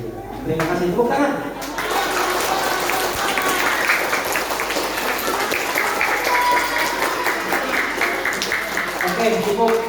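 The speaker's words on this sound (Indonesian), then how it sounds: "Terima kasih, tepuk tangan." Applause from a crowd at an Islamic boarding school Ramadan program, a dense, steady wash of clapping lasting throughout, with voices mixed in underneath.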